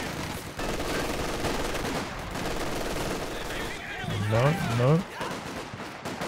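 Small arms gunfire in Company of Heroes 2, a steady rattle of rifle and machine-gun fire running continuously under game voices and a narrator's commentary.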